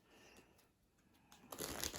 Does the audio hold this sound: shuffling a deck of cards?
yes